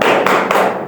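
Standing students in a morning microteaching class clap a quick, loud rhythmic pattern of about three beats together, close and crisp.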